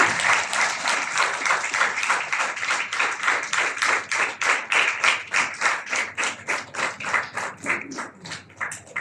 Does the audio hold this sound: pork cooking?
no